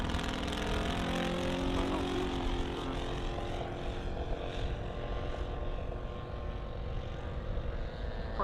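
Propeller engine drone from a Spitfire-like prototype aircraft at an airshow, a steady, loud, continuous roar holding level throughout without a break.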